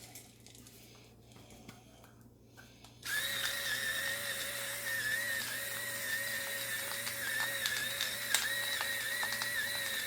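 Pepper mill grinding pepper over beef stew in a multi-cooker, a steady ratcheting crunch that starts after a few quiet seconds and continues close and loud to the end, alone without talk.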